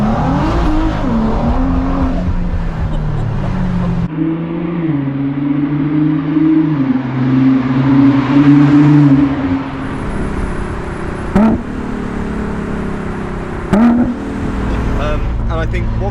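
A Ford GT sports car engine revs and accelerates, its strained harmonic tone climbing and falling through gear changes, loud and close, with a few sharp transients near the end.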